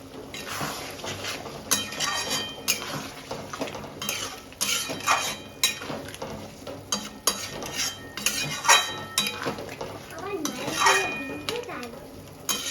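Metal pots and utensils clatter and clink steadily as coconut milk goes into a pot of prawn biryani. The sound is close and busy, with scraping and faint stirring throughout.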